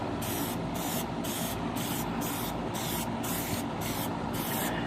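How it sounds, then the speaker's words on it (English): An aerosol can sprays Plasti Dip onto car tail lights in rapid, evenly spaced hissing bursts, about ten short pulses close to the microphone with no talking. "it said that I should spray 3 coats"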